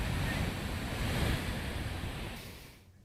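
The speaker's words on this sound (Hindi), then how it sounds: "और पानी का शोर भी सुन सकते हैं आप, गूंज रहा है हर तरफ।" The Beas river in flood rushes past nearby houses in Manali as a loud, broad, constant roar of churning water that fades out at the end.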